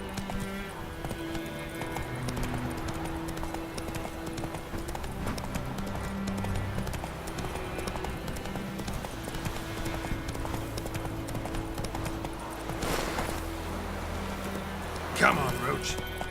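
A horse gallops in the video game Witcher 3 with a steady, rhythmic clip-clop of hooves throughout. Someone talks intermittently over the hoofbeats, and a snort or whinny comes near the end.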